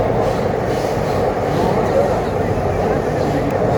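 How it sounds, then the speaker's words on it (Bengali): An underwater metro train running from Esplanade to Howrah in Kolkata gives a steady, loud rumble and rail roar throughout, heard from inside the carriage with no break in the noise. "আন্ডার ওয়াটার মেট্রো ভারতবর্ষে প্রথম।"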